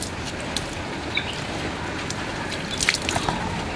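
Water is poured over a freshly repotted Aglaonema Ayu Green plant, a soft continuous trickle with scattered small drips and splashes, fairly close and moderately quiet.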